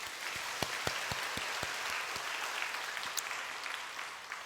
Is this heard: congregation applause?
yes